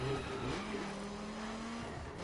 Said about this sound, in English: with this game you hear a Viper V10